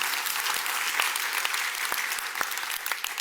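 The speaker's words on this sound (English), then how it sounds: "just a huge round of applause for our public works staff" An audience at a city State of the City address gives a big round of applause for public works staff, a sustained, full wash of clapping with a few sharper claps poking through.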